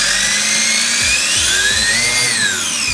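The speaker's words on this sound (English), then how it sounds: "I'll do a little bit of a tire bulge test, but I don't want this thing flying off." A WLtoys A959 brushless RC car's motor screams at a high, steady whine that climbs and falls in pitch during a tire bulge test, very loud and close with no voices.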